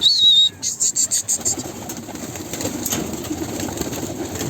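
A thin whistling chirp is followed by a quick run of flapping wingbeats as pigeons leave their coop in the evening, then a steady outdoor rustle and hum.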